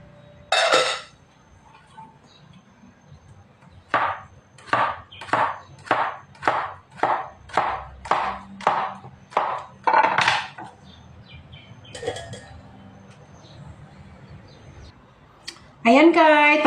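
Cucumber being sliced with a knife on a board for a salad, a run of about ten steady, evenly spaced chops close by, with brief talk before and after.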